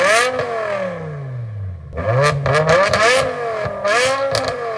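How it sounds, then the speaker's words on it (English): A BMW supercar's V10 with a custom exhaust revs hard, its pitch dropping and then climbing again through several quick throttle blips, loud and close with no talking. "Custom exhaust, we were able to hear the V10 engine roar."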